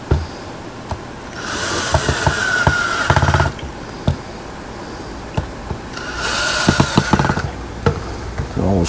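Power driver bursts and clinks of screws being driven back in during maintenance on a Powermatic III, with two longer whirring runs, scattered knocks and handling noises, recorded close.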